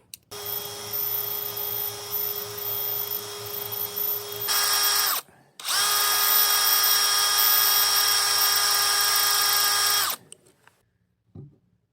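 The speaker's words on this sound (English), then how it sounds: "I'm gonna drill that pin out and get this blade off" A power drill bores a pin out of the bolsters of a Buck 110 folding knife, whining steadily and loudly in two long runs separated by a short pause.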